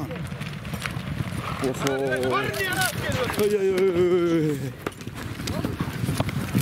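Horse hooves clip-clop during a Kyrgyz jigitovka trick-riding display, partly masked by loud shouting voices in the middle and steady crowd noise outdoors.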